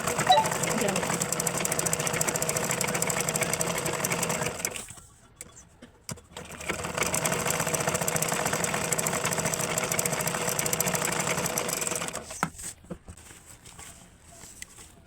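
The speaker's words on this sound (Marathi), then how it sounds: "आपण इथे शिलाई मारून घ्यायची आहे, जेणेकरून आपलं कापड इकडे तिकडे सरकणार नाही आणि अटॅच होऊन जाईल" An electric sewing machine runs steadily, stitching fabric for a triangular handbag, with a brief pause near the middle before the motor resumes its continuous whir, then a short stop near the end.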